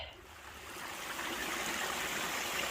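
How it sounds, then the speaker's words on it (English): A stream of running water rushes steadily along a trail on a warm morning, a broad continuous hiss that swells slightly and stays close with no voices. "I'm pretty happy that today there's still lots of running water"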